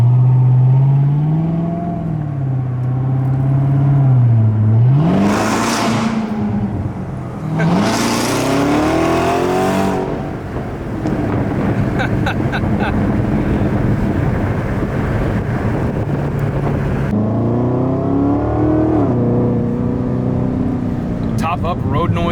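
Inside a Corvette C7 ZR1 driving with the top up, steady road noise rolls along under the exhaust, which swells in two sharp revving bursts with rising pitch before settling into a cruising drone. Voices talk over parts of it.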